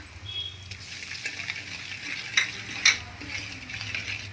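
Gram flour is roasted in a pan with turmeric, dry ginger and black pepper, giving a soft, continuous dry sizzle with a couple of sharp utensil scrapes against the pan.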